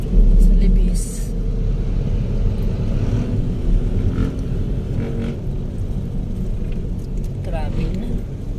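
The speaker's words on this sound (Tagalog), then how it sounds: "Wala na. Traffic na tayo." Road traffic in a stopped-and-crawling jam on Libis, a steady low rumble of engines all around with occasional faint higher passing sounds, people talking over it inside the car.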